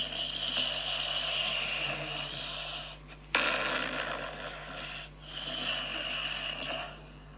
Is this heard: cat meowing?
no